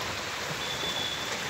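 Hail and heavy rain fall over Kathmandu city in a dense, steady, close hiss with no pause and no voices.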